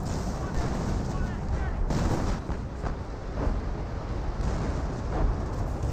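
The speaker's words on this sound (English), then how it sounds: "And Jagdpanther is going to see some artillery." Artillery fire striking a Jagdpanther tank destroyer in Company of Heroes, several booming impacts over a continuous battle rumble, heard under a commentator's voice.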